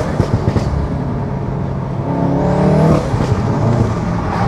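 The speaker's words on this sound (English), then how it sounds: "just turbo noise, induction noise, and then of course a few little pops and bangs from the exhaust as well" Turbocharged manual MK7 Golf R, around 500 bhp with a big turbo, driving with the window down; steady engine drone and whirring induction noise swell as it pulls, with a rising whistle near the middle.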